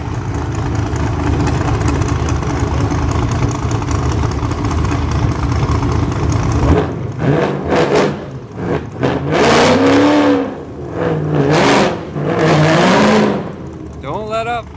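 A race car engine at St. Thomas Raceway Park drones steadily, then revs hard in repeated loud surges and drops, close and dominant with no talk over it.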